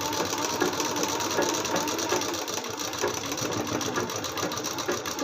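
A sewing machine stitches salwar fabric in a steady, loud, continuous mechanical whir with a fast regular rattle, close by and running without a break.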